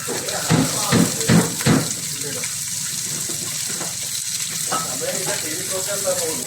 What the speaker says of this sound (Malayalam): ഉള്ളി ഒന്ന് വഴക്കണം